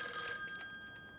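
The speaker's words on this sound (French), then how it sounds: "Téléphone." A telephone bell's ring fades out, the bright metallic tone trailing off over about a second against a low background hiss.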